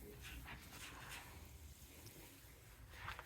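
Dogs freshly bathed and back from the dog park whimper and yip faintly from indoors, wanting to come out, with soft whines and a few short yelps over low background rumble.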